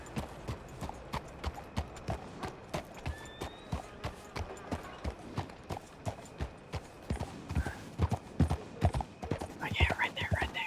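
Two horses, one big and black with white feet and the other brown, clip-clop at a steady walking pace at mid distance, with a whinny near the end and quiet voices under the hoofbeats.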